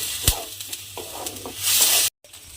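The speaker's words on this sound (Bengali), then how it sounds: "আদাটা দিয়ে আমি একটু কষিয়ে নিয়েছি।" A spoonful of ginger paste is stir-fried in a pan for a cauliflower dum, with soft scraping stirs over a gentle hiss that swells into a louder sizzle near the end, close by and without speech.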